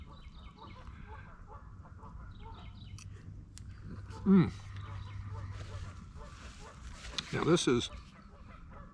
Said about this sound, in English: Listen to the birds and the geese.